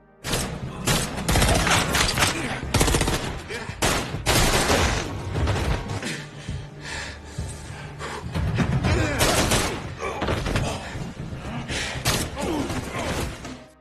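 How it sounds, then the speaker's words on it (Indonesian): A film shootout in which a former special forces fighter exchanges fire with gang members in a kitchen, with loud repeated gunshots and bursts spaced irregularly across the scene amid thuds and impacts. "sehingga terjadilah baku tembak"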